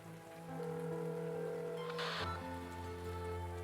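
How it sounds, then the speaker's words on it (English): Cold, biting rain falling in the city of Siracusa in the game Arknights, a steady hiss of raindrops on surfaces under sustained low ambient music tones, with a brief louder wash midway. "A droplet of rain strikes the ridge of her eye socket and rolls down like a teardrop"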